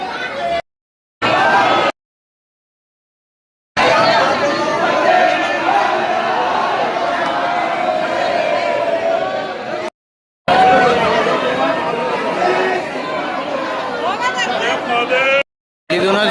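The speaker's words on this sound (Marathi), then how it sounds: "गर्दी भोले गर्दी आहे." A dense crowd of pilgrims at the Mahakal temple in Ujjain, a steady close hubbub of overlapping voices and chatter, broken by a few short gaps of silence.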